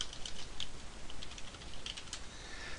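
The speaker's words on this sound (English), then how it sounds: "I type in Holland." Typing on a computer keyboard during an Access 2010 database query entry, a quick run of light key clicks close to the microphone over a faint steady background hiss.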